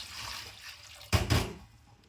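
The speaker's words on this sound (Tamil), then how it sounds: "இதையும் வந்து உப்பு தண்ணியில் கொஞ்சம் ஊற விட்டு கழுவ போகிறோம்" Vegetables are sloshed and rinsed in a bowl of salted water, a brief splashy burst of water after a quiet lead-in, close and moderately loud.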